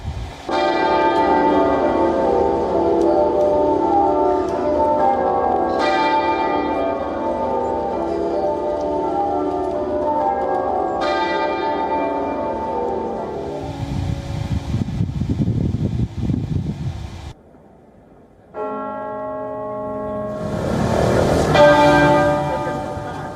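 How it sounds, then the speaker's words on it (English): Church bells peal across the country in memory of the Queen, a loud, continuous wash of overlapping rings with fresh strikes every few seconds, briefly giving way to a low rumble before the bells return. "Thousands of church bells were rung out across the country in the memory of the Queen."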